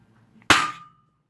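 A single sharp metallic strike as a hammer hits a chisel set at an angle in the slot of a stuck screw during home repair, loud and close, with a brief ringing tail.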